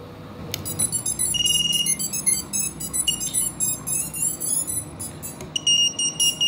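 An FPV drone's buzzer beeps during a bench test, giving high piercing chirps and sustained tones in irregular bursts, loud and close, over a low background hum.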